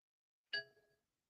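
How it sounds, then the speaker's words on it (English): A message notification bell gives one short, bright metallic ding with a quick ringing decay, heard alone against silence. "Y'all heard that bell ring? That means somebody done sent me a message."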